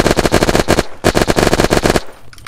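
Two long bursts of rapid automatic gunfire ring out loud and close in the survival game Unturned, separated by a short pause and followed by a faint trailing sound.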